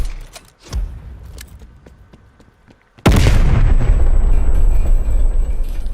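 Spawn tube fired with a jump shot in Black Ops Cold War, a sudden loud blast midway after quieter rustling and clicks, with a sustained rumbling tail.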